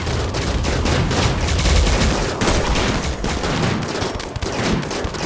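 Gunfire in a RimWorld battle, rapid overlapping shots rattling in a dense, continuous fusillade with no speech over it.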